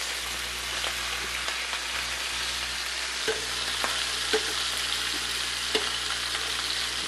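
Chicken pieces frying skin side down in a pan, a continuous dense sizzle with scattered crackles and pops, close and steady with no voices.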